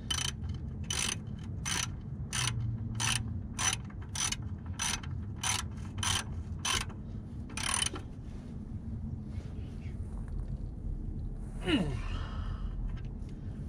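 A ratchet wrench clicks in a rapid, evenly spaced run of about a dozen sharp ticks as a car oil drain plug is tightened, then stops, leaving a low steady background hum.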